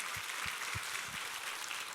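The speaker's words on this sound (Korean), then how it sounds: "우리 하나님께 감사와 영광의 박수를 올려드리겠습니다" A church congregation applauds in praise, a steady wash of many hands clapping at moderate distance, with a few low thumps mixed in near the start.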